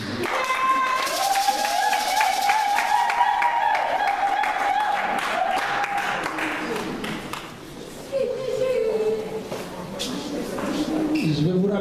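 A church congregation applauds, the clapping rising and fading under sustained musical tones while voices speak over it.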